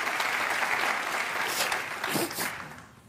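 A crowd applauds in a dense, sustained burst of clapping that stays loud and even, then fades toward the end.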